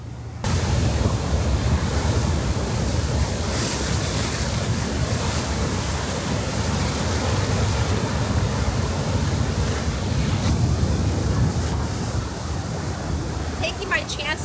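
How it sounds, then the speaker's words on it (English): Large winter swell waves crash over a sea wall on the Kona coast of Hawaii, a loud, steady roar of surf and spray with wind buffeting the microphone throughout. "the waves are crashing over the wall"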